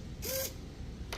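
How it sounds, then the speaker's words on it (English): A small servo motor sweeps up and down, giving a short whirring buzz followed by a brief second mechanical tick, close and fairly quiet. "the servo motor just moved up and down"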